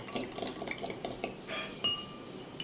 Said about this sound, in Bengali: চিনি দিলাম, এবার এটাকে একটু চামচে করে গুলে নিলাম